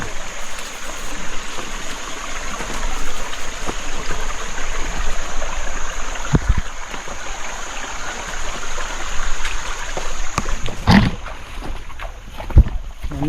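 Steady flowing stream water at a forest campsite on Hiniduma Kanda, a continuous broadband rush with wind noise and a few brief knocks, no talking.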